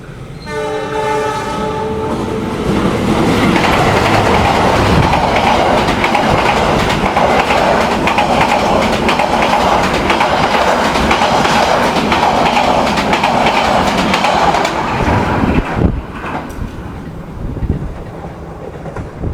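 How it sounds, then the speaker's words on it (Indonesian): The Arjuno Express train roars straight through Porong station at close range, a loud sustained rush of wheels and rail noise with a horn blaring at the start, then fading away. "itu tadi kereta api Arjuna Express melintas langsung stasiun Porong"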